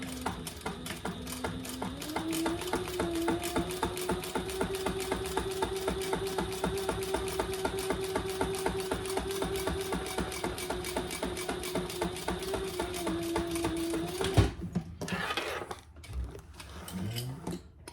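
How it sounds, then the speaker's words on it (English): Bernina home sewing machine topstitching a vinyl clutch, a fast steady run of rapid needle stitches with a whirring motor pitch for about fourteen seconds, then a few short stop-start bursts. "Now let's top stitch down the other side."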